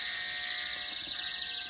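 Dahua wireless alarm kit siren set off by a door sensor, a loud, continuous high-pitched warbling wail with a steady pulsing tone, sounding alone without any voices.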